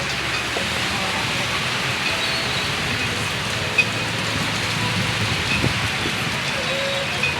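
Steady rain hisses down on surfaces, a dense even patter with a few faint knocks and no clear speech.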